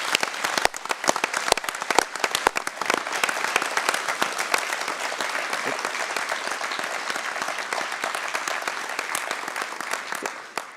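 A conference audience at the Welsh Labour gathering claps for essential workers, a dense, sustained round of applause with sharp individual claps standing out at first, then settling into a steady wash.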